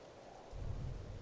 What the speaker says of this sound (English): It's October 29th and it's pouring.